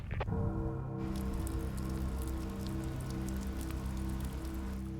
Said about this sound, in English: Thinking it better stop raining soon, or we're gonna go from too dry to too wet.